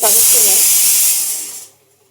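A pressure cooker of Gobindobhog rice vents a loud, steady hiss of steam close by for well over a second, then the jet fades away and stops, with faint voice-like tones at the start.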